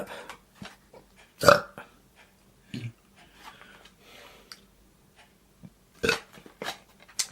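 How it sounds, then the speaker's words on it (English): A man burps after eating Stollen, with a few short, close, throaty belches and soft mouth and breathing noises between them in a quiet room. "I've got a burp."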